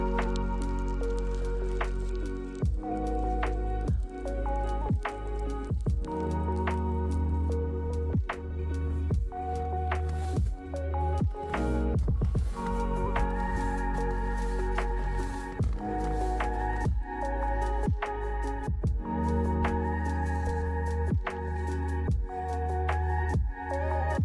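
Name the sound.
water dripping behind a frozen waterfall in Svalbard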